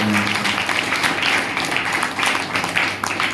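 A church congregation clapping together, a dense, continuous patter of many hands at moderate distance.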